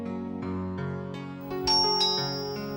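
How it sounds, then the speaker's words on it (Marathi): A home doorbell rings with a series of bright electronic chime tones stepping through a short melody, close and clear, with a quiet steady hum underneath and no talk. "अरे बेल वाजते"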